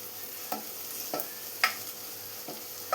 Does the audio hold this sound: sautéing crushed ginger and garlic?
yes